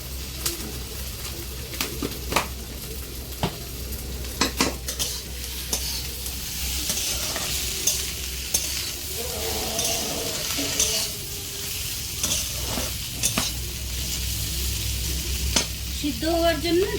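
Okra and potatoes stir-fry in a pan with a steady gentle sizzle, punctuated by frequent sharp spatula scrapes and taps against the metal, and birds calling faintly in the background.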